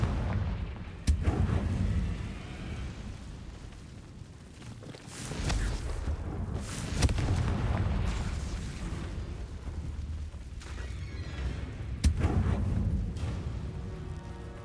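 Confringo fire-blast spell explosions in the Hogwarts Legacy video game: booming blasts and crackling bursts recur throughout, with sharp hits near one, seven and twelve seconds over a dense, rumbling background of game noise.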